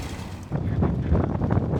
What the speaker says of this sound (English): It is a windy day in Bora Bora